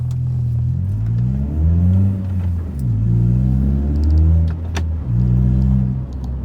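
Mitsubishi Lancer GT taking a turn hard, its engine droning steadily with rising and falling revs and a low road rumble throughout, close and fairly loud with no talking.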